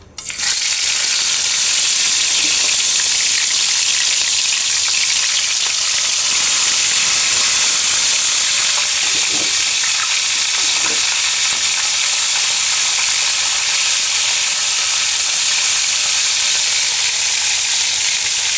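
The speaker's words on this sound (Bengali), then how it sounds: "এখানে আমি মাছ লবণ হলুদ মেখে নিয়েছি, মাছটা এখন ভেজে নেব" Fish rubbed with salt and turmeric fries in hot oil, a loud, constant hissing sizzle that starts abruptly and holds steady throughout, with a few faint knocks in the pan and no talking.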